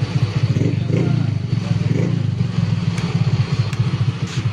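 A ported, tuned motorcycle engine idles close by with a steady, fast thumping pulse and mechanical clatter throughout, loud and continuous with no clear talk.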